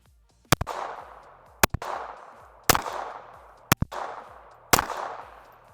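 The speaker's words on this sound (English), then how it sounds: "there's going to be 5 shots without a suppressor" Five unsuppressed shots from a Volquartsen Black Mamba 6-inch .22 LR pistol, each a sharp, loud crack spaced about a second apart with a short ringing echo decaying after it.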